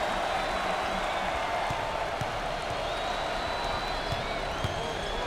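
Basketball arena crowd at an SEC Tournament game between Ole Miss and Kentucky cheering and applauding, a steady loud roar with occasional sharp claps and thuds, and a faint whistle-like tone running through.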